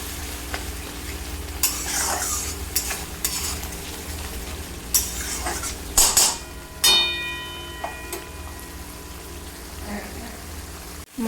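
Bottle gourd greens and stalks with turmeric fry in a pan, a loud sizzle broken by vigorous stirring scrapes and metal utensil clanks on the pot, with a faint ringing clink near the middle and no talk.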